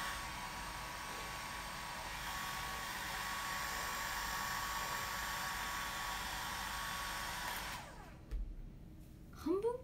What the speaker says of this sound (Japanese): ドライヤーすると暑いよね。